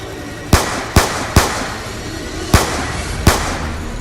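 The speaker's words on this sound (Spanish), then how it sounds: "Andrea siguió disparando, distrayendo a la bestia lo suficiente para que se olvide de Andrés y lo dejara atrás" Five sharp gunshots ring out at irregular intervals as sound effects in a Spanish-language zombie apocalypse audio drama, each a loud close crack over a low steady background rumble.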